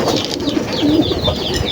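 Hungry racing pigeons in a loft at feeding time, a flock cooing steadily with soft wing flutters, close and continuous.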